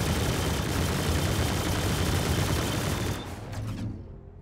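Repeater lasers firing a rapid, dense salvo in the Star Citizen space game, a loud continuous stream of blasts lasting about three seconds before cutting off into a fading tail.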